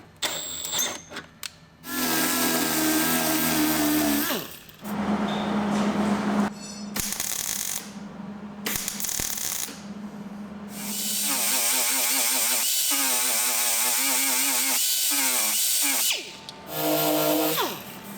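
A power drill bores out rivet nuts on the firewall of an R32 Nissan Skyline GTR, with loud whining bursts broken by pauses and shifts in pitch as the bit bites, close up and with no talking.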